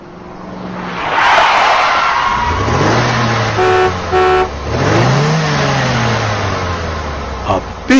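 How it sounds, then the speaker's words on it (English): A big car's engine hums and revs with rising and falling pitch, cut by two short, loud horn toots in the middle, close by and with no voices. "Big car."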